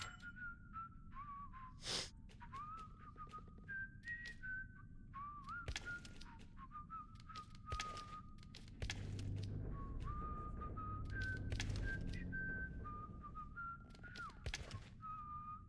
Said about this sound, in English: I really do wish you would shut the fuck up whistling